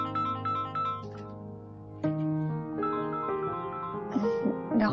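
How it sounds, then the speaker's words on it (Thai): A phone ringtone plays a loud, steady electronic melody of bright repeating tones that changes pitch every second or so, continuous throughout. "ขอไปรับโทรศัพท์ก่อนนะ"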